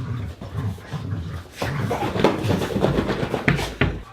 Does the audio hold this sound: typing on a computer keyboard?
no